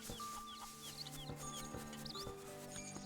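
A chicken in the video game Zelda: Link's Awakening gives quick clucks amid chirpy game sound effects and background music, all faint and steady.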